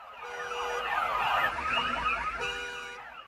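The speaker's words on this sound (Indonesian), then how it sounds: "sehingga alarm mereka berbunyi serentak untuk mengundang keributan" Several car alarms wail at once, their overlapping siren-like tones sweeping and pulsing loudly and continuously.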